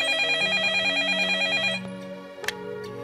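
A telephone rings with a warbling electronic tone that repeats steadily, then stops abruptly and gives way to a quieter room with a few clicks.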